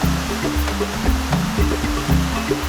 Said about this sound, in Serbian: Sada plovimo delom reke koji je dosta brži.